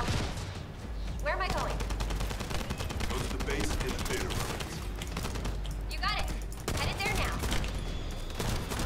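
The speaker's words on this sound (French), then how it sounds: "Je suis en train de combattre au sniper" Sniper rifle gunfire and other shooting crack repeatedly through a busy firefight in The First Descendant, rapid sharp reports layered over dense combat noise, with a player talking now and then.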